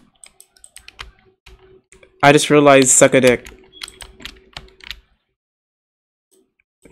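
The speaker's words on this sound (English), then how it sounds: "I just realized how loud my keyboard sounds are." Computer keyboard typing and clicking in a VR Chat session, scattered sharp key taps before and after a short burst of close speech.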